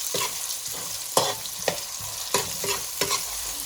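Chopped ginger, garlic and chili sizzle steadily in a hot pan, with a spatula stirring through in several distinct scraping strokes, close and moderately loud.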